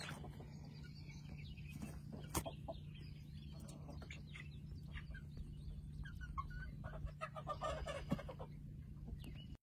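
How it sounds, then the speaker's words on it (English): A young rooster (cockerel) and chickens cluck and murmur softly, with occasional brief calls standing out over a steady low hum. "We had a young rooster, technically called a cockerel, named Eli."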